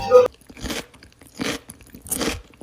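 Three crunchy bites into very crusty bread, each a loud, close crackle spaced about a second apart, with quiet chewing between them.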